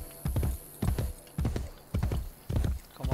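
Horse hooves in the video game Assassin's Creed Brotherhood, a regular clip-clop of paired hoofbeats repeating about every half second, close and fairly loud.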